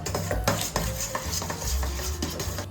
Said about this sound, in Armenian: Կավելացնենք այստեղ ձուն միանգամից եւ նախնական մի թեթև կխառնենք